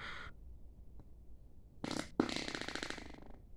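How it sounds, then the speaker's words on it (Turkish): A cartoon car engine fart sound effect: a short buzzy burst, a pause, then a longer raspy, sputtering blast, loud and close with no talk. "Sanırım motor osuruğu."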